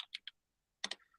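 Typing on a computer keyboard: a few quick, close key clicks, a short pause, then another tight burst of keystrokes, crisp and quiet.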